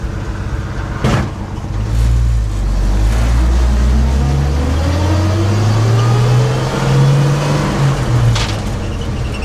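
An old Ford F100 pickup truck drives along a road, its engine droning up close and climbing in pitch as it accelerates and shifts through the gears, with a continuous rumble throughout.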